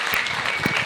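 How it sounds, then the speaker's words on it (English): A conference audience applauds a composer's introduction with dense, steady clapping that fills the whole short moment at an even level. "Let's get a big round of applause going for Stephan Shutze."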